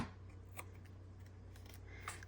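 Scissors trim a paper journal cover in a few faint, brief snips over a steady low hum, close by and quiet, with no talking.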